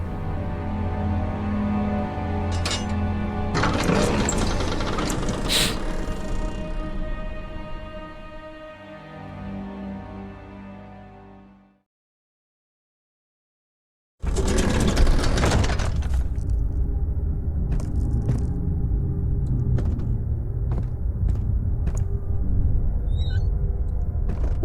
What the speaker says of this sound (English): Machine room.